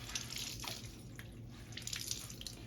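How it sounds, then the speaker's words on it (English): Faint water dripping and trickling as wet laundry, including a sopping t-shirt, is squeezed out by hand, with soft splashes throughout. "So just squeeze all the clothes out."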